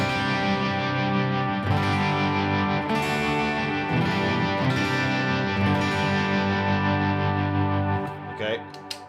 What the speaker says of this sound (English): it's still gonna have my tremolo on there.